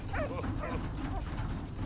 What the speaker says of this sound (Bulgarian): Добро кученце, ти си най-якото куче на света.